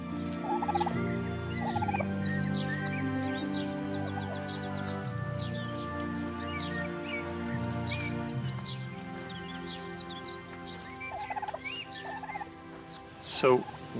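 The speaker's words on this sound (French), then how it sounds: "Le seul animal domestique d'Amérique qui soit entré dans nos cuisines est le dindon des Aztèques." Turkey gobbling in repeated short bursts, with other fowl calls scattered through a steady farmyard background; a louder gobble rises near the end.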